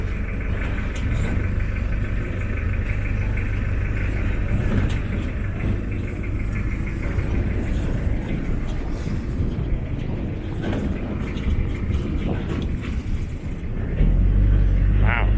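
A small novelty Hello Kitty car climbs a hill in Chiang Rai, its engine giving a steady loud rumble with road noise throughout, and the low drone deepens near the end as passengers speak over it.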